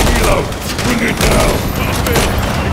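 Bursts of rapid gunfire aimed at a helicopter in Call of Duty Modern Warfare 3, loud and dense, with overlapping shots and booming impacts for nearly three seconds and faint voices mixed in.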